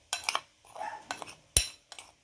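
Seasoning being mixed into raw chicken liver in a bowl, a few close, quiet clinks and scrapes of a utensil against the dish with short pauses between strokes.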